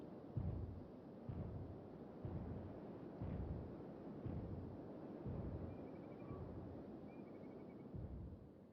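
A Rancor stomps around in the video game Kenshi, a rhythmic series of deep booming thuds roughly once a second over a low rumbling bed, with faint tones high above.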